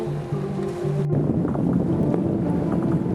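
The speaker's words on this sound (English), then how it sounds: "the wind is coming straight up the Sound of Mull" Wind rushes steadily across the microphone while sailing up the Sound of Mull, a continuous breathy roar with faint water wash beneath, starting quieter and swelling louder after a brief dropout.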